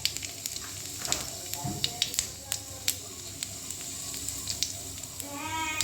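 Dried red chilies and whole cumin fry in hot oil in a kadai, giving a soft steady sizzle scattered with small crackles and pops while a voice talks over it.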